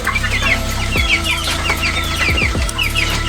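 Chickens about a month old in the growing phase on a poultry farm cluck and chatter continuously, many birds overlapping at close range in a loud, busy flock.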